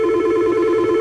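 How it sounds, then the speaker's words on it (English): A T4x desk phone rings with an incoming call, sounding a steady, loud electronic tone close by without a break. "Okay, so my phone is ringing."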